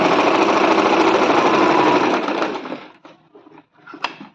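An electric sewing machine stitches a 1.5-inch folded waistband channel on a belted salwar, running loud and close in a steady rattle for about two seconds, then stopping and giving way to a few quieter handling clicks.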